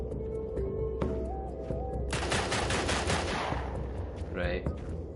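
A rapid burst of automatic gunfire erupts from a shooter built in Dreams, loud and close, after a brief stretch of game tones and electronic beeps.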